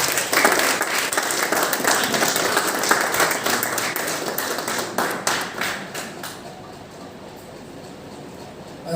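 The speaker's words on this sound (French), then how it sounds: "On peut l'applaudir très fort, mesdames et messieurs" An audience at a tourism award ceremony in Majunga, Madagascar claps loudly and densely, then the applause thins into scattered claps and fades, with some voices mixed in.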